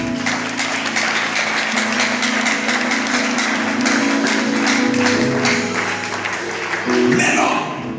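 A church congregation bursts into sustained applause during a sermon, a dense, steady wash of clapping with voices and tones mixed underneath, swelling slightly near the end.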